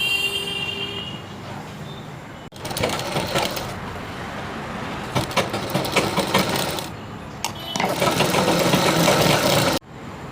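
A sewing machine stitches a V-shaped chudidhar collar neck, running in two long steady bursts with a short pause between them, close and fairly loud.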